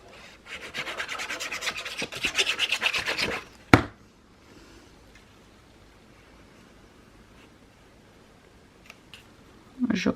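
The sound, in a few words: cutting paper for a scrapbook album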